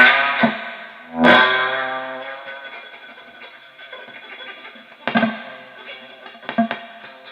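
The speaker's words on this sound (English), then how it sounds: "the Octatone is great for squelch tones." An Octatone effects unit gives out distorted, squelchy synthetic tones. Sharp bursts break in at irregular moments, and long buzzing tails fade between them.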